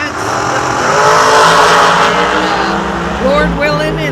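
Race cars make time runs at a drag strip during a Fuel Tech 64 car shootout at Kil-Kare. The roaring engine noise is loud and continuous, a rising whine comes near the end, and a voice talks over it.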